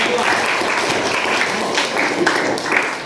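A classroom audience claps steadily for a student group that has just finished presenting, a dense, even patter of applause filling the whole stretch.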